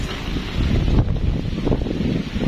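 Strong gusting wind near Lumajang during a storm, a continuous roaring buffet that pounds the microphone, swelling louder around the middle and staying rough and close throughout with no voices.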